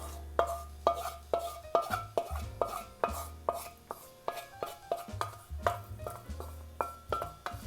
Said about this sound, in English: And the idea now is just to mix it all together.